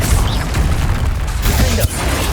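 A Confringo fire spell from Hogwarts Legacy bursts with a loud, boomy blast, and rumbling low-end impacts and crackle carry through the short stretch before dropping off sharply near the end.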